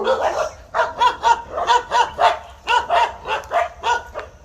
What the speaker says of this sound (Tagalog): Nakakita sila ng ibang aso.